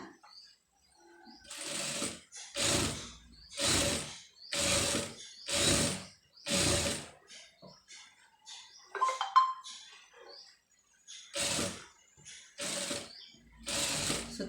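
A sewing machine stitches an embroidered blouse in short repeated bursts of rapid whirring, about eight runs separated by brief pauses, close and clear with a small clicking handling sound in the middle.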